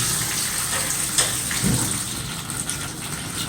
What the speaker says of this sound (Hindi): तो सिंपली हम गीजर का वाल ऑन कर लेते हैं और हम गर्म वाली टूटी को ऑन कर देते हैं